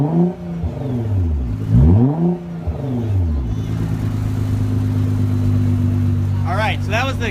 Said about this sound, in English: So this is gonna be revved with the Megan Racing exhaust.